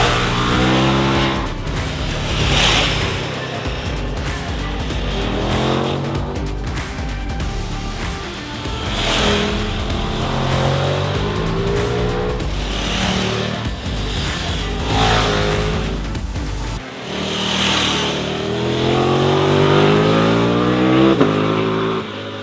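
A 2024 KTM 1390 Super Duke R EVO motorcycle rides on country roads, its engine droning steadily with repeated revving rises and gear changes, loud and close throughout with no talk.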